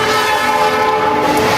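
A train passes close by on a railway line with its horn sounding, a loud, steady blare of layered tones held over the rumble of the cars for the whole short stretch, with no voices.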